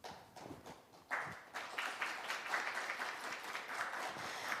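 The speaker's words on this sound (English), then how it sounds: "please give him another big round of applause." Audience applause after remarks at a formal ceremony, starting thin and swelling into steady, dense clapping that carries on to the end.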